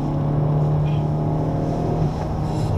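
Honda Civic Type R engine pulling hard out of a corner at the Le Mans circuit, a steady loud droning engine tone heard from inside the car under acceleration.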